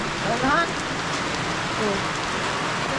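Heavy rain pours down outdoors in a steady, dense wash of noise that fills the whole stretch without a break, close and fairly loud.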